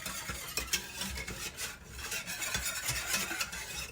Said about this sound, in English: you want to stir this up till you can't feel any of your dry ingredients anymore